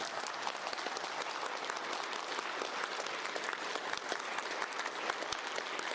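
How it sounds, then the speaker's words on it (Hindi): A room full of people at a leadership masterclass clapping loudly and steadily, a dense, continuous burst of applause with no voices. "जोरदार तालियां"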